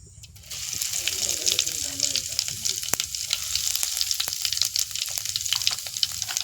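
Fennel and cumin seeds hit a little hot oil in a pan for aloo chapati and sizzle loudly at once, a dense, even crackle that keeps going with faint sputters.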